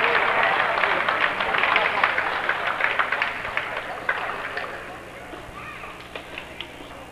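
A crowd at a youth basketball tournament applauds the consolation-prize team, a steady patter of many hands rising and then thinning out, while an announcer talks over it.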